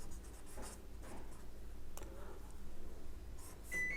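Pen scratching steadily across paper while a handwritten integration-by-parts math solution is worked out, a close, continuous scribbling texture with brief strokes and pauses and no voice over it.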